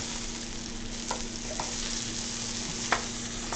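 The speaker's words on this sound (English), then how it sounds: "So, we got some good sear action on both sides now." Pork chops sear in a hot pan with a steady, close sizzle and crackle, broken by a few sharp clicks of utensils.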